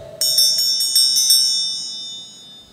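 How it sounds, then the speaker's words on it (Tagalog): A small bell is struck about five times in quick succession during a family rosary prayer gathering, each clear metallic ring overlapping the last and then fading into a long decay. "Unya, Brad, paraas naman yung bell."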